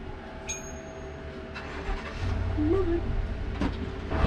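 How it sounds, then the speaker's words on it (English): A forklift engine rumbles in from a distance and grows louder and heavier, with faint clanks and a brief squeak over the rising drone. "Sounds like a forklift coming"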